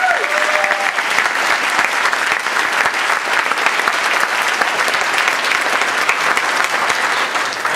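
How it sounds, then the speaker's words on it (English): Sustained applause from a large audience at a Toastmasters district conference speech contest, loud and dense clapping that continues evenly for several seconds. "Start off just by giving a round of applause for our contest Toastmaster, Keisha."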